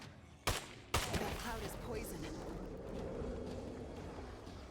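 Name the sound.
gunshots in video game State of Decay 2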